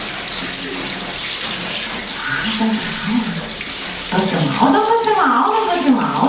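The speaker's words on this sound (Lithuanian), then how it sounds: "Dabar vėl draugaujam su Vandenuku." Running tap water gushes steadily as children wash their hands at a kindergarten sink, a continuous splash close by, with a voice speaking over it in the latter half.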